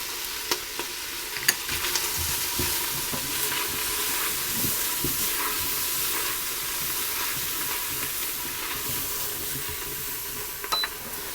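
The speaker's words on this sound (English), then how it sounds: "I'll also put in my cinnamon and my allspice and stir it around" Cinnamon and allspice stirred around in a hot pan for lamb and orzo, a continuous close sizzle with faint spoon scrapes throughout.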